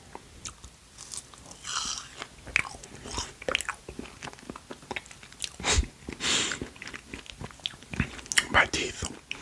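Frozen gummy bear sweets are bitten and chewed up close, with repeated wet crunches and squishy chewing sounds in irregular bursts, interspersed with soft speech.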